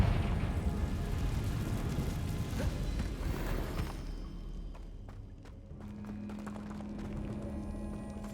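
A Confringo blasting spell bursts in a cave in Hogwarts Legacy, a rumbling crash that fades into scattered debris clatter and a lingering low hum.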